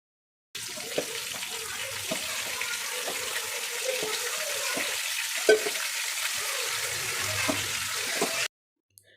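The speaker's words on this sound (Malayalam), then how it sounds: "ഇനി അത് ഓരോന്നായിട്ട് ഇങ്ങനെ ഫ്രൈ ചെയ്തെടുക്കാം" Marinated chicken pieces, rested in yogurt, sizzle steadily in a pan of hot oil, a broad continuous crackle with occasional utensil taps, close and fairly loud, ending abruptly.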